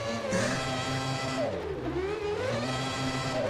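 A sim racing car spinning donuts in a driving game, its engine revving steadily with rising and falling pitch and tire whir, loud and continuous with no talk.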